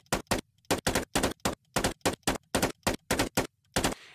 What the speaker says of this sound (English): we shoot some rounds very rapidly